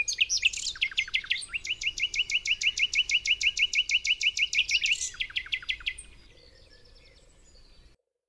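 A nightingale sings a fast, rapid series of repeated high chirps and trills for about six seconds, close and clear, then fades to a faint distant twitter.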